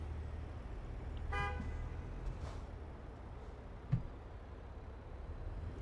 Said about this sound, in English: Why do they beep?